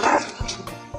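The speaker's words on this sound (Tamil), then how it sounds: "இந்த நாய் ரோட்ல போற நாயை பார்த்து குலைச்சி வம்புழுத்து இருக்கு." A dog barks at another dog on a road: a short burst of a few sharp, close barks and yips within about a second, with a faint voice in the background.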